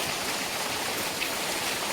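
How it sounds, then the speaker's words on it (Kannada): Heavy rain pours down in a dense, even hiss that stays steady and close, with no voices over it. "ಈಗ ಕೂಡ ನೋಡಿ ಜೋರಾಗಿ ಮಳೆ ಬರ್ತಾ"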